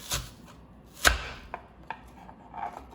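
An apple being cored and cut into slices with an apple corer in a home kitchen, one sharp loud crunching push followed by a few softer cracks and scrapes.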